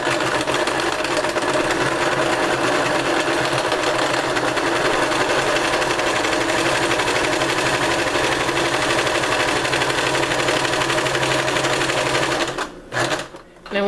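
A sewing machine straight-stitches strips of fabric scraps in a rapid, even mechanical chatter for about twelve seconds, then stops with a few short clunks at the end. A voice talks over the running machine.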